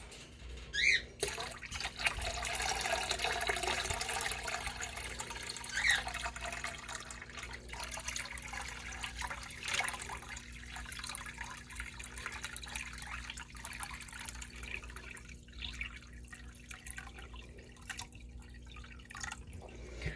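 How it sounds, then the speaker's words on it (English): Water poured slowly from a bucket into a betta fish tank, a continuous trickling and splashing that is louder early on and then settles into softer dribbles and drips, with no talking. "I got the second round of water, so I'm going to go ahead and pour that in slowly"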